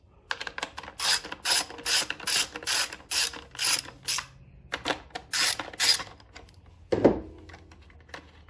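A ratchet works loose the four top screws on a Honda EG6500CL generator, a run of quick, close clicking bursts with short pauses between them, followed by a single heavier clunk near the end.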